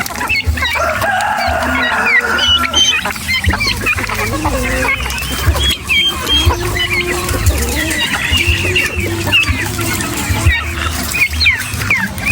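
Hens and roosters on a rural Filipino farm cluck and crow continuously, a busy, close flock with overlapping calls over a constant low rumble.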